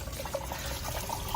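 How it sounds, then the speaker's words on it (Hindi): Water rushes steadily out of an 87-litre tank as it drains, a continuous close gushing and splashing with no talk. "यहाँ हमारा सारा पानी निकल जाएगा"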